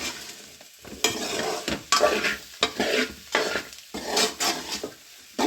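Beef coconut masala being stirred in a pan, loud scraping strokes of the spoon against the pan repeating every second or so over a sizzling bed, close up with no talk.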